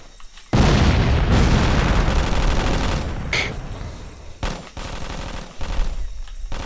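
Grenade blast in a League team shooter match, a loud boom that sets off dense rattling gunfire, with further bursts and sharp pops that trail off over several seconds.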